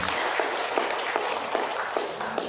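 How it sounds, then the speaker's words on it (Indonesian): A crowd applauds at a welcoming speech by a Central Java religious affairs office head in a dense, continuous wash of clapping, with a faint rhythmic emphasis running through it. "Tepuk tangan untuk kita semua."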